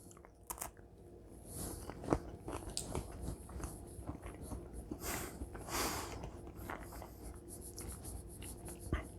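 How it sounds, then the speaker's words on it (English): A chocolate marshmallow Smetzel treat is bitten and chewed up close, giving a few crisp crunches followed by quieter, irregular chewing and faint rustles. "Nice little crunch there, which you may have heard."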